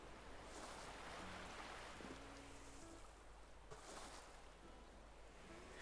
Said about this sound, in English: I keep hearing the little splashes of the sea hitting the rock and thinking that it's footsteps.